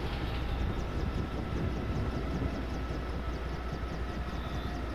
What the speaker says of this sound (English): The helicopter falling!